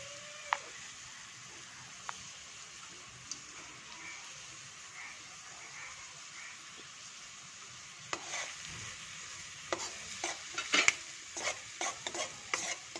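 Carrots tossed into a hot pan over chopped onion and stirred with a utensil for noodles: a quiet stretch, then a burst of scraping, clattering stirring strokes and soft sizzle near the end.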